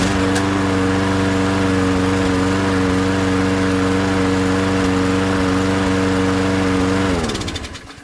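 A small walk-behind lawn mower engine runs steadily and loudly close by during home maintenance, a constant droning hum that holds for about seven seconds before cutting out and winding down near the end.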